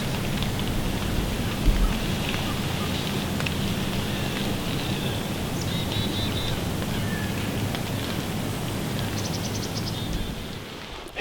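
Steady rain falls throughout, a dense even hiss of drops on surfaces, with faint high chirps and a brief low bump early on.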